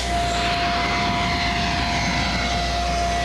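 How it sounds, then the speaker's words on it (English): An airplane landing at John Wayne Airport, a loud, continuous engine roar with a steady whining tone held throughout, close and constant with no voices. "the moment their plane touched down at John Wayne Airport"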